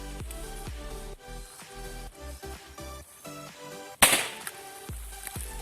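A Korsar firecracker from Russkiy Feyerverk blasts inside an old well, one sudden sharp bang rising above steady tonal background music before fading quickly.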